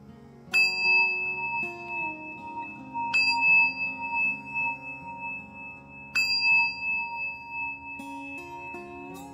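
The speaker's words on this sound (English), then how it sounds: "Can I ring the bells a couple extra times?" Bells struck three times in a steady series, each a bright ringing strike with long sustained overtones that decay slowly while a soft drone-like tone holds underneath throughout.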